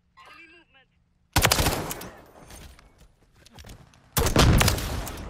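Gunfire in Call of Duty Warzone (MW3), with two loud bursts of rapid automatic fire separated by a quieter stretch of scattered shots and game noise, preceded by a short voice.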